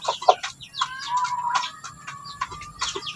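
Chickens of a new breed cluck repeatedly in a close farm pen, short bursty calls coming in an irregular rhythm over faint background noise.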